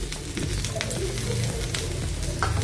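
Oil sizzles steadily as a high-protein semolina and chana dal breakfast fries in a pan, a continuous crackling hiss with light stirring scrapes throughout.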